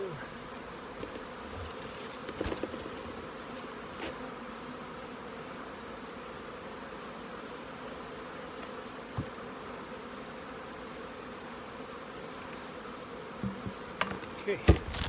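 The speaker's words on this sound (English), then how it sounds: "So I dump my bees into a bucket." Honey bees, winter bees from a hive, buzz in a steady, faint drone after being dumped into a bucket, with a few soft knocks and taps near the end.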